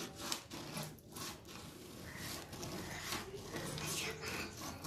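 Scissors cutting a paper pattern for a 32-inch katori blouse: faint, repeated rasping snips and paper rustles, close by and quiet throughout.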